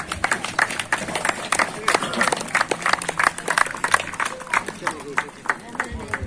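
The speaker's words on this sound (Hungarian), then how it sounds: "A nagy tapsot ne felejtsünk!" Spectators at an outdoor horse-driving obstacle competition in Újkígyós clap for the winners: brisk, uneven applause with sharp individual claps, mixed with crowd chatter and a voice over it.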